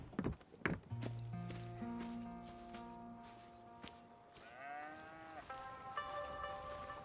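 Cattle mooing on a farm in the Red Dead Redemption II video game, a long low moo followed by a higher drawn-out call, with hoof thuds and clatter at the start, no talking.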